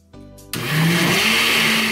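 A blender whirs up abruptly and runs at a loud, steady roar, churning a strawberry pie mixture with gelatin after a brief lower-pitched start.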